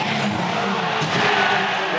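A Supercars race car at Mount Panorama, Bathurst, skidding toward a wall impact, with tyre squeal and engine noise close and loud, and a commentator talking over it.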